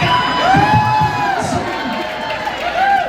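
A party crowd on the deck of the Carnival Venezia cruise ship cheers and whoops loudly, with a host's amplified voice speaking over the noise.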